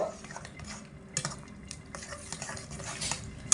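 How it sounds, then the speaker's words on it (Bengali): Water from a bowl poured into soybean and potato curry masala in a pan on the stove, with clinking, stirring and scraping against the pan over a low sizzle. "এবার আমি এর মধ্যে দিয়ে দেব এক বাটি মতো জল"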